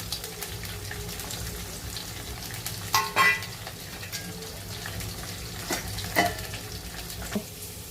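Green chili, garlic, onion, potato and peanuts fry in an oiled pan with a constant close sizzle, spoon scrapes and a few sharper clacks as the mixture is stirred, with no speech.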